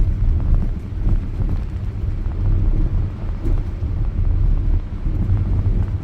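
A car engine in second gear holds a steady 2,000 RPM, giving a continuous low rumble mixed with wind buffeting across the microphone, with no talking.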